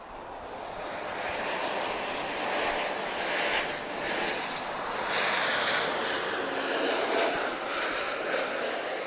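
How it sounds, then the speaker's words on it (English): A TAP Express Embraer E190 jet arrives at Lisbon Airport, a broad roaring jet rush swelling and holding steady, heard from a moderate distance with a faint whine riding over the rumble. "TAP Express TP1021, arriving from Madrid. Airborne 58 minutes, and this is an Embraer E190 standard."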